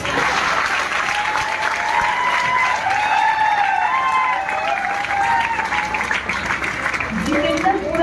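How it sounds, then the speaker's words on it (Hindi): Audience applause fills a stage event marking Chandrashekhar Azad's birth anniversary, a steady loud clapping that holds for the full stretch with a faint tonal layer beneath. "ताली जोरदार बजाओ"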